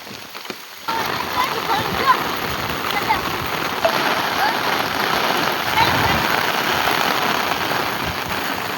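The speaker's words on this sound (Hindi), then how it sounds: "हमारे गांव में बारिश सुबह से चल रही है" Steady rain pours down across a village, a dense continuous hiss of drops striking surfaces that kicks in after a short quiet moment and stays loud and even throughout.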